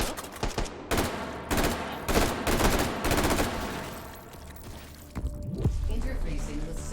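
Gunfire in the VR shooter Hot Dogs, Horseshoes & Hand Grenades, a string of sharp close shots in quick bursts, then a pause and a couple more, with a voice speaking between them.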